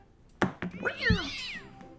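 A cat's meow, one drawn-out rising and falling cry lasting under a second. It follows a couple of sharp knocks and is heard close and clear, with no talk over it.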